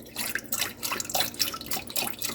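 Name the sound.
pouring veggie broth into a sauce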